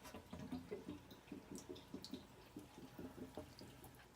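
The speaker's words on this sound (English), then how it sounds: "While you let the tank drain a little bit" Water draining from a home water heater tank, a faint, steady stream broken by soft repeated drips and gurgles, close by with no voices.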